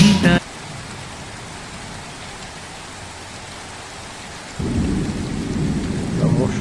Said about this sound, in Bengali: মুষলধারায় বৃষ্টি হচ্ছে গ্রামে।